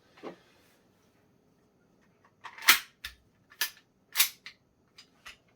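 An Umarex Heckler & Koch USP air pistol fires several sharp, close snaps, one early shot followed by a quicker run of four or five after a pause, with a faint clack of handling between.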